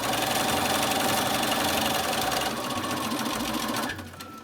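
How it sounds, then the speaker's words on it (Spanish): A sewing machine stitches a T-shirt seam joining the sleeve to the body, starting with a couple of back-tack stitches. The motor drones in a loud, close, steady whir that shifts pace midway and winds down just before the end. "Voy a hacer un par de puntadas para rematar al principio y luego ya coseré normal."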